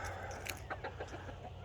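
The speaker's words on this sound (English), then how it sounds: "I'm always rescuing the Rhode Island Reds, the roosters, because they fight." Rhode Island Red chickens and roosters cluck on a homestead, several short clucks scattered over a steady low hum, fairly faint and with no talking.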